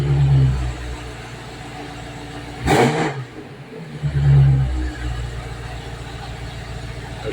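A 2019 BMW X6 M Competition engine idles with a low rumble, then gives one sharp, loud rev that fades back to a steady idle.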